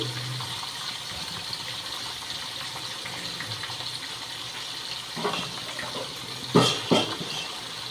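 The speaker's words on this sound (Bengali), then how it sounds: "আমি এদিকে পালং শাকটাকে ধুয়ে নিচ্ছি" Tap water runs steadily into a kitchen sink while fresh spinach leaves are rinsed under it, a constant gentle flow with a few louder splashes and handling knocks near the end.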